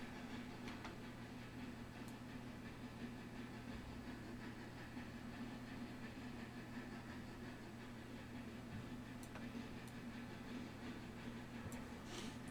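A locomotive in the game Railroader backs up with a low steady engine drone and faint intermittent clicks and squeaks, quiet and continuous with no talk.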